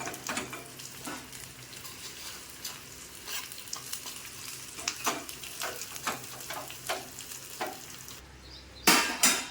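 Hot tempering with curry leaves poured into a pot of moong dal sambar, giving a run of sharp crackling sizzles and spattering pops, with a louder burst near the end.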